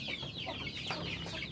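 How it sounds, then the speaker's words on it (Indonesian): Village chickens cluck and squawk in a busy, overlapping chorus while being fed leftover, partly burnt rice, the calls steady and close throughout with no talking. "mau ngasih makan ayam tuh, bekas nasi yang tadi malam tuh ada yang gosong sebagian ya"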